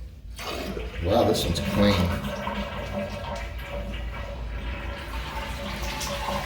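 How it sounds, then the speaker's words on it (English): A household toilet flushes as its tank is drained, with rushing, gurgling water building and then settling into a steady wash. Someone speaks briefly over it at close range. "empty the tank on your toilet"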